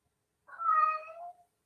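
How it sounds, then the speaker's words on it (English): A house cat gives a single clear meow, close and moderately loud, rising and then trailing off against silence. "my cat's going crazy"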